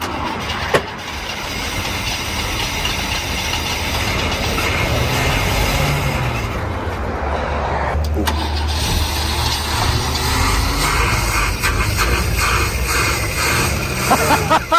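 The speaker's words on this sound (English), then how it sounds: "I'm working the throttle on that, obviously." A Holden VC Commodore engine from a wrecking yard runs rough and loud nearby as the throttle is worked, its drone rising and falling with rattles and sharp knocks, no voices heard.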